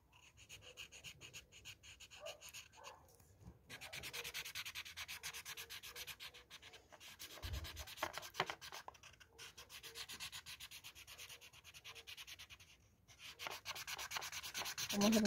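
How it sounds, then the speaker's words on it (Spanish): Colored pencil shading the hair of a Vegeta drawing, faint close-up scratchy rubbing strokes in irregular bursts with brief pauses, quiet and alone. "Vamos a pintarle toda la parte del cabello de Vegeta."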